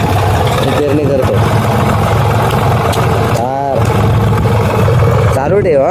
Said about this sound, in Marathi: MH15 हा ट्रॅक्टर आहे, भारी ट्रॅक्टर आहे, आमच्या गावचा ट्रॅक्टर आहे हा